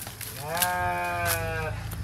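Goats bleat near a goat pen at midday, one drawn-out wavering call rising over steady outdoor background noise, fairly close.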